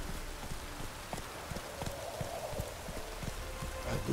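Steady rain hisses and patters in The Witcher 3 video game, a soft continuous wash with a horse's hooves clip-clopping rhythmically underneath.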